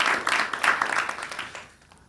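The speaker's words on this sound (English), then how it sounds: "but you can applaud the band members" Studio audience applauding band members during a live in-studio session by The Jayhawks, a short burst of clapping that swells briefly and then fades out within about two seconds.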